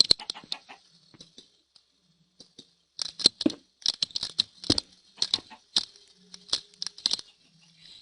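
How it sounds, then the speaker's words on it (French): Sharp, short clucking sounds from chickens in a video game come in scattered bursts, some quick clusters and some lone pecks, with quiet gaps between them. "Ah, des poulets, ça c'est intéressant."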